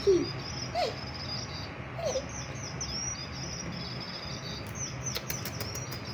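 Outdoor bird calls: a few short, sharp chirps spaced a second or so apart, then a quick run of bright tweets near the end, over a faint background hush.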